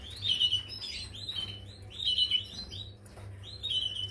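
Several small birds tweet in repeated bright bursts about every second and a half, close and lively over a constant low background hum.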